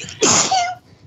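A single sharp human sneeze bursts out close and loud, lasting about half a second before fading into quiet room tone.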